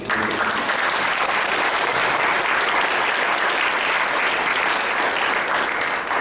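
A church congregation claps to encourage students before their exams: loud, dense, sustained applause that fills the room at an even level throughout.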